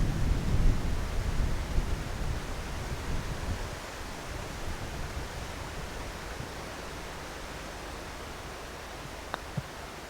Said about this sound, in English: Wind's just picking up.